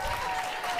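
Studio audience on a daytime talk show applauding, a brief steady wash of clapping at moderate level with a faint tonal hum running beneath it.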